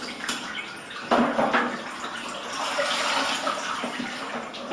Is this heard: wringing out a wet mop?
yes